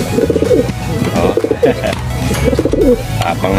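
A racing pigeon coos close by, repeating rhythmic, throaty rolling calls in several bursts, loud and clear against a faint background.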